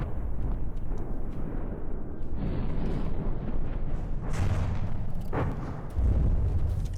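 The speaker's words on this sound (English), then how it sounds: "EMP torpedoes coming in" EMP torpedoes detonate in the naval combat game From the Depths, producing a loud, continuous rumbling roar of explosions with a sharper blast midway and a heavy boom near the end.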